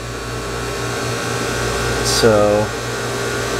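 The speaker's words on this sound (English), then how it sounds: "I'm gonna touch the wires with this pump and see if this pump turns on." A spare boat pump motor switching on when wires are touched to it: a brief whirring motor hum rising out of a steady background drone, lasting under half a second, near and moderately loud.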